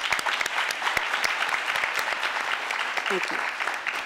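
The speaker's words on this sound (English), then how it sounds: "Can we please have a round of applause for all those folks donating their time?" An audience at a city council candidates' forum applauds volunteers, a crowd of hands clapping in a busy, sustained stream while one voice briefly speaks over it.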